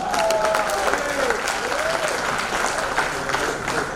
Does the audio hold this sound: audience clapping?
yes